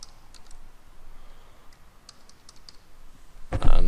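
Light, sparse clicks from a computer keyboard as text is typed into an Unreal Engine 4 game menu screen, with a louder burst of noise at the very end.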